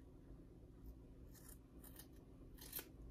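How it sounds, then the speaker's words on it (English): Scissors snipping along the bottom edge of a sewn coat's fabric seam allowance, a few faint soft cuts close by over quiet room noise. "So carefully, we're gonna take our scissors"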